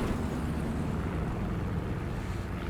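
A steady, low droning engine of a Stuka dive bomber in War Thunder, a continuous rumbling hum that holds at moderate loudness without talk.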